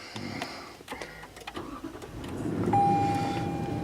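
A Lexus LX 570 engine starts with a brief crank and catches into a low, rising idle, preceded by clicks and cabin rustling and joined by a thin electronic tone.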